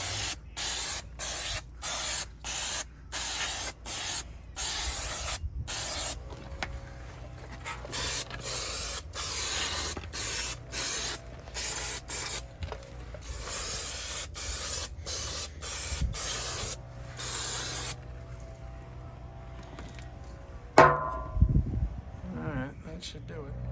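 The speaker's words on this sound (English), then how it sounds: "I'm gonna spray that off with some brake cleaner" Brake cleaner sprayed onto a Knott brand trailer brake caliper in bursts, a long string of loud hissing blasts with short pauses between them, then a clatter and quieter shop noise.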